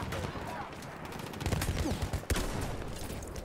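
Gunfire in the Battlefield 1 video game, a cluster of sharp shots and bursts over a busy battlefield din, growing louder and denser midway with one strong crack near the end.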